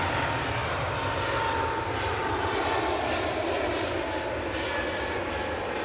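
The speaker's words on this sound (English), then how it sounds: "EasyJet to Lanzarote." An easyJet airliner bound for Lanzarote at Manchester Airport roars steadily from the first moment to the last, loud and continuous, with no one talking.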